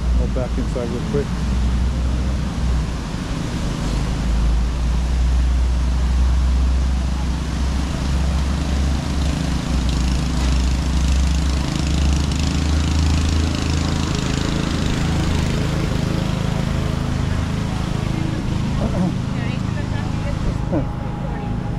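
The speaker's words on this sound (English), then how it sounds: "And then lawnmowers and weed whackers." Lawn mowers and weed whackers run steadily outdoors near Waikiki, a continuous droning engine hum with a strong low rumble lasting throughout, while people talk over it.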